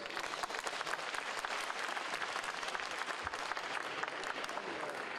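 An expo audience claps steadily, a continuous dense patter of many hands at moderate distance with no talk over it.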